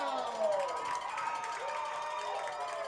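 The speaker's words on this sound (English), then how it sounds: "So that gets the home crowd a little excited." A home crowd cheers at a high school football game, a distant, diffuse roar of voices and shouts from the stands that holds steady throughout.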